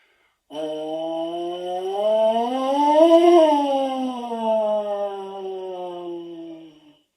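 Buzzing into a baritone mouthpiece produces a continuous siren that glides slowly up in pitch and back down, a single sustained, reedy tone heard close and alone.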